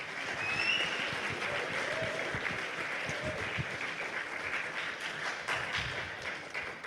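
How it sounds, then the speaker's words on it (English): Audience applause for panel participants at a hacker conference, a steady, dense wash of clapping from a crowd lasting throughout, fairly distant and even in loudness. "let's give a big round of applause for all the participants here"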